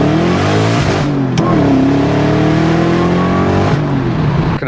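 A car engine revs hard and holds high in the 3,000 rpm range, rising harmonics sweeping up and sustained loud and close, with a brief blip near the start and a settle toward the end, no talk over it.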